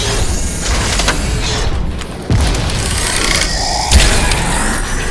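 A grenade explodes in Crysis 3, a close dull boom over continuous game noise and machinery hum, with a second sharper burst near the end.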